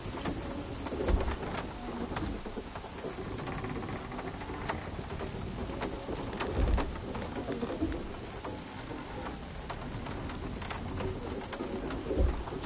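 Bird calls in the God of War video game on PS5 Pro, cooing and chirping over a busy ambient backdrop with rain-like patter and low rumbles, steady throughout with no talk.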